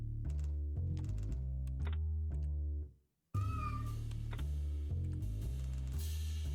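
A cat meows repeatedly in the pixel-art indie horror video game Lone Survivor, short clear tonal cries over a thumping game soundtrack, with a brief drop to silence midway.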